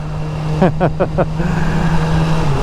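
A 2014 BMW S1000R motorcycle engine idles steadily up close, with a quick series of four short warbling chirps partway through and a voice speaking over it.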